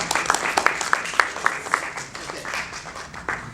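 A small group claps together in an office-style workshop on business gamification, a moderate patter of scattered claps with a few louder individual hits, fairly close and fading out within a few seconds.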